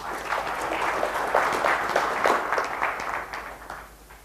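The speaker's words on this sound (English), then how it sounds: "let's give a round of applause" Applause from a conference audience at Zinnov Confluence 2014 in Bangalore, a moderately distant, steady patter of many hands clapping that fades toward the end.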